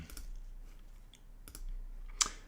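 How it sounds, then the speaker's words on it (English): Quiet, sparse clicks of a computer mouse and keyboard keys, a few separate taps with a brighter, sharper key press near the end, and no talk. "if you just click on them and press delete"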